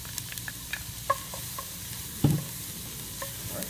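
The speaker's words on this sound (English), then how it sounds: "we'll let these vegetables saute for 2 or 3 minutes" Vegetables and garlic for a gumbo sauté in a pot, giving a steady close sizzle broken by a few soft taps and one louder knock of a spoon.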